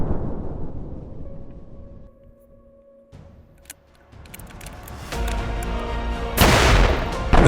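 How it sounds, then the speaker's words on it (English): A hydrogen-filled bottle blows apart outdoors in an open area. Muffled rumbles build to a loud, sharp burst near the end, followed by a noisy, crackling rush. "The second explosion had the same effect."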